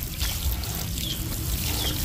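Water poured steadily onto newly planted bitter gourd seedlings in a garden during summer, a continuous close trickle and splash.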